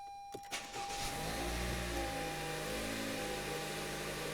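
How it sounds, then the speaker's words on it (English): A Toyota RAV4 started with its push-button ignition: a couple of clicks, then the engine catches and settles into a steady, low idle hum. "then I'll be able to start the vehicle as normal"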